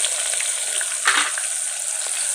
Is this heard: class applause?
no